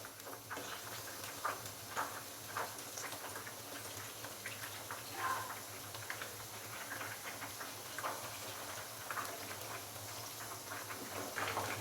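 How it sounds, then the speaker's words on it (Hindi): Chicken pakoras fry in hot oil with a faint, soft sizzle and scattered light pops and patters at an uneven rhythm. "तो अभी चिकन के पकौड़ों को हम अच्छे से फ्राई कर लेंगे।"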